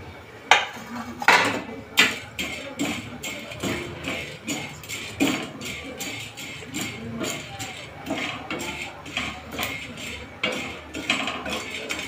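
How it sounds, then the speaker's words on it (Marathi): Dal lentils dry-roasting in a pan, stirred with a utensil that makes rapid, rhythmic scraping and clinking, steady and close, with no talk. "त्यानंतर डाळ भाजूया।"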